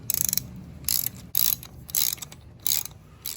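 A ratchet wrench on a 1/2-inch socket loosens the exhaust bracket bolts on a 2015 Harley-Davidson Dyna Street Bob, giving several close, crisp bursts of clicking with short pauses between strokes.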